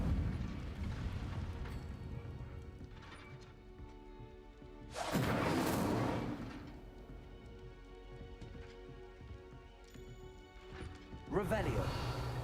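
Incendio fire spells in Hogwarts Legacy, two loud whooshing fiery bursts that erupt over a rumbling game backdrop with music, the second cut short at the end, and a voice talking in between.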